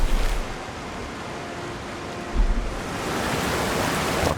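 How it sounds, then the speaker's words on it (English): Waterfall in the video game Avowed, a constant broadband rushing hiss of falling water, even and fairly loud, with a low thump midway and no speech. "Waterfall there."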